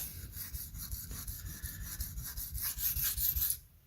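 A Spyderco Parata blade is drawn across a sharpening stone near its heel at an extreme angle, making a steady run of close, rhythmic rasping strokes with no talking.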